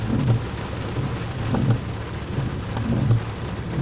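Heavy rain drums steadily on a parked car, heard from inside the vehicle as a dense, continuous patter with occasional low rumbles.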